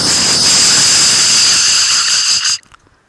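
A kitchen pressure cooker shrieks with a loud, sustained steam whistle and hiss for a few seconds, then cuts off abruptly to near silence.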